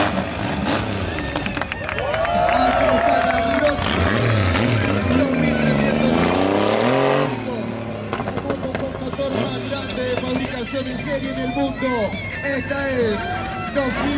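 Triumph Rocket 3 motorcycle engine revving hard during a freestyle stunt show, rising and falling engine pitch over crowd noise and an announcer's voice, loud and near, easing off toward the end.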